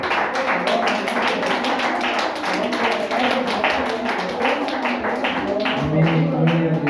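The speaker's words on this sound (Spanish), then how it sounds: "¿Por qué no le dan una ofrenda de aplausos a Dios," A church congregation at a Spanish-language service claps in a quick, rhythmic wave of applause, close and loud, while a preacher speaks over it.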